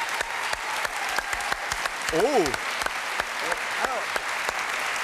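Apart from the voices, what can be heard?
studio audience applause for a contestant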